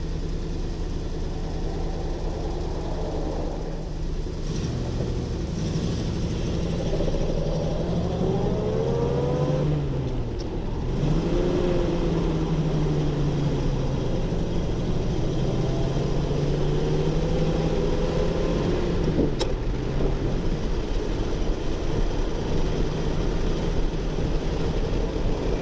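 A 1934 Ford V8 Deluxe Roadster with mechanical brakes accelerates on the road, its engine note rising steadily and then dropping between gear shifts, with a continuous near, loud drone throughout.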